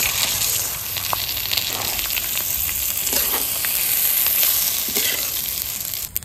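Raw rice tipped into hot oil already spiced with cloves, cardamom and ginger for a bhuna khichuri, crackling in a steady, loud sizzle throughout with a few scraping stirs.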